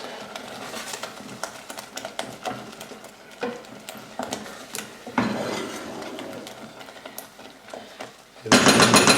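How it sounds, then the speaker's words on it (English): Vegan snack ingredients with mixed spice and cinnamon are stirred in a bowl, with irregular scraping and clinking knocks close by, a denser scraping burst midway and a loud, bright rush at the very end. "Give it a mix."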